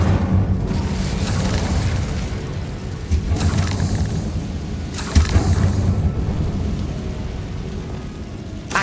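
The Incendio fire spell cast in Hogwarts Legacy, heard as deep rumbling booms and whooshing bursts that recur over a dense, roaring backdrop.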